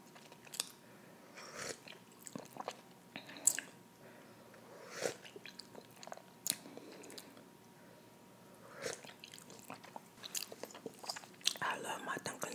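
Close, crisp chewing of a vegan spread, with wet bites, crunches and squishy mastication in irregular bursts over quiet room tone, ASMR style.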